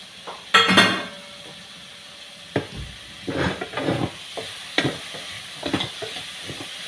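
Chopped onions going into a pan for a paneer curry, soft sizzling under intermittent scraping and stirring clatter of a utensil against the pan, with a louder clank near the start.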